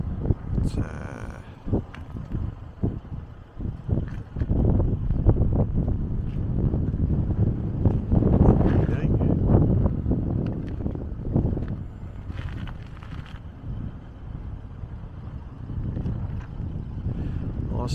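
Strong wind buffets the microphone outside a roadhouse just off a main highway in the South Australian outback, a loud continuous rumbling gust that surges and eases throughout, with faint background clatter.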